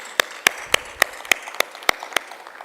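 Scattered hand claps from a small conference audience at a cannabis clinical research session, sharp isolated slaps at an uneven rhythm, about ten in under three seconds, fairly close and thin rather than a full ovation.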